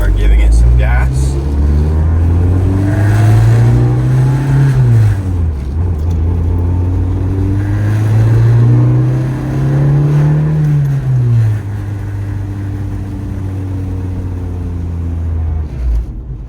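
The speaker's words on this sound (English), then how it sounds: "Start giving it some gas." A manual car pulls away as the clutch is let out and gas applied, its engine droning loud and close while the revs rise and fall through gear changes, and people talk inside the cabin.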